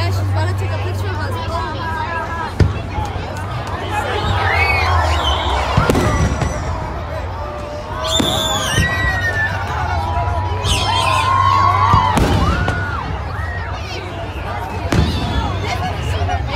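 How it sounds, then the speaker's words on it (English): Fireworks bursting over the Sailfest festival, with sharp pops and crackles scattered through a steady crowd hubbub and nearby chatter; people talk throughout. "And the fireworks just started and then it disappeared out of the sky."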